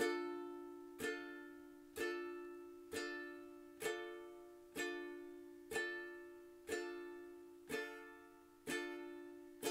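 A single ukulele chord strummed about once a second, ten even strokes, each ringing briefly and decaying, played quietly with no talking.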